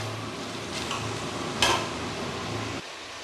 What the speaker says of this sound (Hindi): मैं इसको अच्छे तरीके से इनकी भुनाई करूँगा 1 से 2 मिनट, ताकि ये लहसुन अदरक का पेस्ट जो है ये भी अच्छे तरीके से मिक्स हो जाए